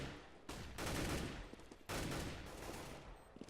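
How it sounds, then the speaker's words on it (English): Rapid gunfire in a competitive Counter-Strike esports match, including an M4A4 rifle, comes in two loud dense bursts with a short lull between, alone with no voices. "There's the M4A4 kill from Kutcher"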